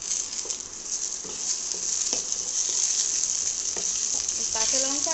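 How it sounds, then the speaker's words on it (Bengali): Onions and green chillies frying in oil in a pan, a steady close sizzle with soft crackles and a few light stirring scrapes throughout. "আমার পেঁয়াজ সুন্দরভাবে লাল করে ভাজা হয়ে গেছে এবার আমি লঙ্কাগুলোকে ছেড়ে দেবো"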